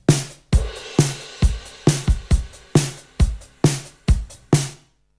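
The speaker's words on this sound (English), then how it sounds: "these drums sound like this" Live-recorded acoustic drum kit heard through a processed drum bus, playing a steady groove of punchy kick and snare hits with cymbal wash, loud and close, about a dozen strong beats before a short ring-out.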